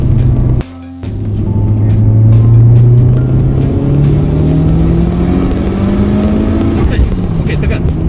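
A Mitsubishi Lancer Evolution 5 accelerates hard on a road, the engine note climbing through the revs after a brief gear change pause, heard loud from inside the cabin with road and wind noise.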